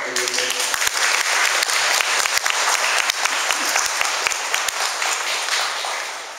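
A church congregation applauds after Mass, a dense, even wash of many hands clapping together, loud and sustained for several seconds before starting to thin out.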